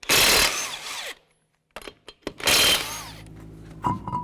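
An impact tool fitted with a 21mm socket removes the wheel from a 2011-2014 Hyundai Sonata, sounding as two loud, close rattling bursts separated by brief clicks and quiet.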